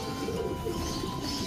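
Pigeons cooing softly while being loaded into a basket for racing, a continuous murmuring coo with light bird calls at close range and no talking.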